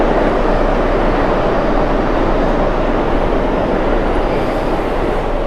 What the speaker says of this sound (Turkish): aynı ray sistemini kullanıp farklı yöne giden trenler var